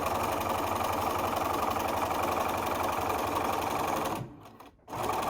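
A sewing machine stitches a fabric face mask seam with a strap caught inside, running a fast, steady mechanical whir up close. It stops briefly near the end, then starts again.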